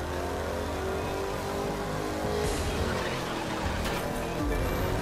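A Ford Mustang with gearbox and suspension upgrades roars steadily in the racing game The Crew 2, its engine revving at a constant high pitch with a slight swell partway through, loud and alone.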